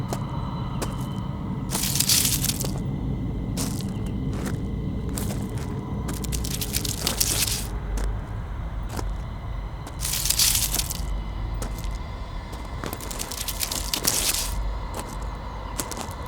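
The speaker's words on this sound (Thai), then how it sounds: "เพราะเสียงเท้าที่เหยียบกิ่งไม้ และใบไม้แห้ง ดังใกล้เข้ามา" Close footsteps crunch and snap through dry leaves and twigs in a rubber plantation, an uneven sequence of crackling steps with a low background rumble.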